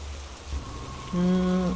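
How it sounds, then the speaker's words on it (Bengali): Heavy rain in a cartoon ghost story falls steadily, near and continuous, with a low hum underneath and a brief tonal sound rising near the end. "মনে হচ্ছে না এই বৃষ্টি সহজে থামবে।"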